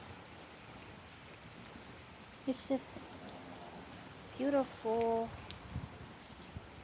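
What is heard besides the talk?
rain falling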